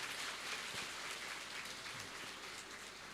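An audience claps at a motivational session for JEE and NEET students, a faint, even wash of applause that holds steady throughout from a distance.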